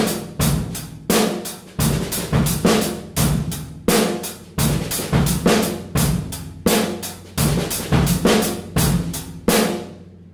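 A drum kit plays a steady repeating groove with a backbeat on the E of two: sharp snare and cymbal hits with a kick underneath, loud and close, with no voices.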